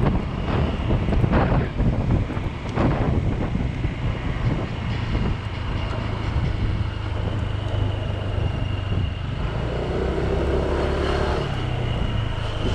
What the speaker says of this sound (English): I'm riding my scooter at night.